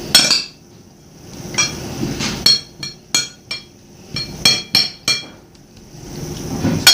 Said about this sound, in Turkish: Böyle güzelce malzemeleri karıştırıyoruz.